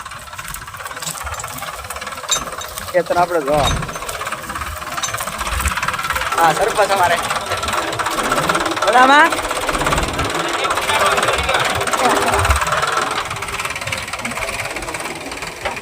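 A tractor engine runs continuously in a farm setting, a steady, fairly loud rumbling drone with knocking texture that persists throughout while people talk over it.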